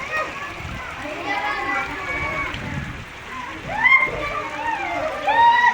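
Heavy rain pours down in Lucknow, with water splashing and sloshing under a steady hiss while people, including a child, talk over it.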